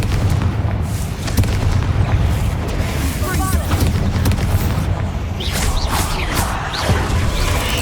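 A Confringo fire spell in Hogwarts Legacy sets off a deep, booming blast inside a tomb, a loud rumbling explosion sustained under dense game ambience with scattered crackles and sharper bursts late on.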